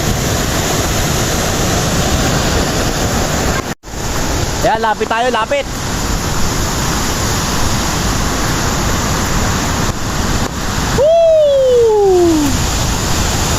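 River water rushes steadily and fills the whole stretch with broadband flowing noise. People shout and talk over it nearby, with a brief dropout partway through.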